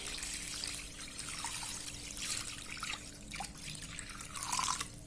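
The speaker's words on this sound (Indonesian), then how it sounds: "kita cuci kembali dengan air bersih" Catfish rinsed in clean water after a salt and lemon juice soak, with steady dripping and trickling water and light splashes running close by for several seconds, no voices.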